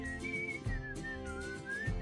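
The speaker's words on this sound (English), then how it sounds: "Make sure you teach your kid important stuff, like how to whistle." A person whistles a sustained, wavering melody, clear and close, over a steady background hum with low thumps.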